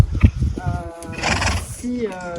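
A horse whinnies loudly and close by, with a rising and falling neigh mixed with snorting and rustling, heard during a saddle-fitting session.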